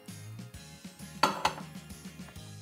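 A saucepan holding sugar is set onto a stove burner, producing a couple of sharp metallic clinks and light knocks, close but fairly quiet, with no talking.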